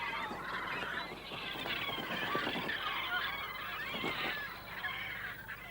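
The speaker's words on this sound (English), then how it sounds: "Cormorants are among our most widespread breeding birds" A cormorant breeding colony fills the air with a dense chorus of harsh, croaking and honking calls, many birds overlapping at moderate distance in a continuous jumble without pause.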